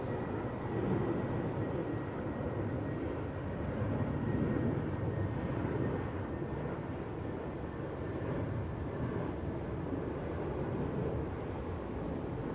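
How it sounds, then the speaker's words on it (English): Airbus A320neo from Porto at Zurich Airport, a steady broad jet engine rumble heard from a distance, continuous and moderately loud without talk. "That's the A320neo from Porto"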